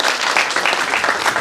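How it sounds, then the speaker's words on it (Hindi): An audience at a musical stage play in Lucknow breaks into dense, sustained applause, many hands clapping at once in a loud, continuous wash with no voices over it. "जोरदार तालियां इनके लिए"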